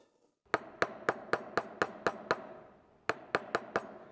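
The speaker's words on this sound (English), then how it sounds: "To fix that, I'll hammer along the ridge of the sheet metal." A hammer strikes along the ridge of sheet metal on a block, a run of eight evenly spaced sharp metallic taps, a short pause, then four more, close and alone.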